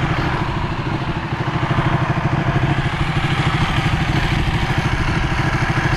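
A Ducati 1199 Panigale S, white and nearly new, idles close by with a steady, lumpy, clattering thrum that holds at an even level throughout, with no talking over it.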